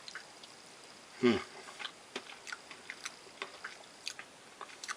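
Someone chews rice from a field meal pouch with soft, regular crunchy clicks close to the mouth, after one louder rustle early on.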